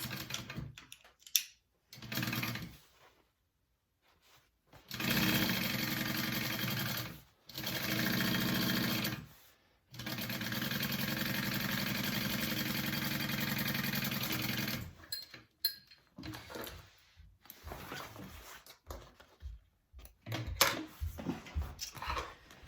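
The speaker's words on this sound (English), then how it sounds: "So sew this together at a 1/2 inch seam allowance." Sewing machine stitching a half-inch seam on a PacSac bag, running in several long loud bursts with short pauses between, then stopping and starting in brief choppy spurts near the end.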